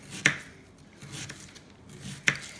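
A knife chops through a medium onion on a cutting board, two crisp distinct strikes about two seconds apart, close and clear with quiet between.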